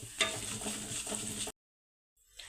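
Fennel seeds, cumin and peanuts hit hot oil in a pan for a quick vermicelli upma, making a short, close sizzle and crackle that stops abruptly, then faintly returns.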